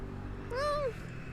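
A cat meows once, a clear rising-falling call close by, heard outdoors while people walk together with a faint background hum.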